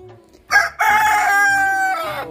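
A rooster at a bird market crows loudly and close by, one long drawn-out cock-a-doodle-doo after a short opening note, with faint low clucking around it.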